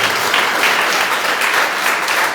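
A church congregation applauds during a Sunday service, a brief, loud, close burst of dense clapping with no voices on top.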